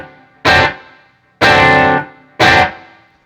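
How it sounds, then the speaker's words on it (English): Three loud, bright electric guitar chords with a gritty overdriven crunch and cranked mids, each struck hard and left to ring briefly before cutting off, playing a song. "create a little bit of that distorted or that harder edge sound"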